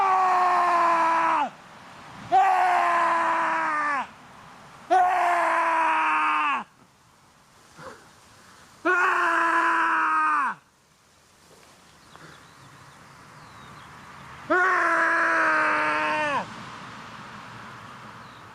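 A person screams loudly again and again, long sustained cries separated by short silences, close and strong, with a couple of quieter, shorter sounds in between.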